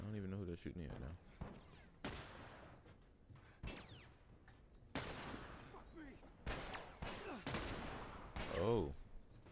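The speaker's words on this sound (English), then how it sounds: "Who are they shooting at?" Gunfire in The Last of Us video game, a scattered series of sharp distant shots and thuds spread irregularly across the stretch, fairly faint, with brief game sounds between bursts.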